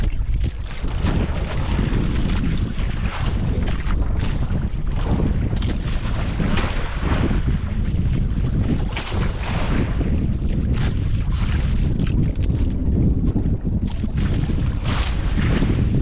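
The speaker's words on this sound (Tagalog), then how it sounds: "hangin na mga idol, naghangin." Strong wind roars steadily against the microphone throughout, a continuous loud rumble with gusty buffeting and no pauses.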